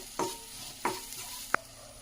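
Masala stirred into a pan for mutton curry with drumsticks: a quiet sizzle is broken by three distinct spoon scrapes and knocks against the pan in quick succession, with no voices.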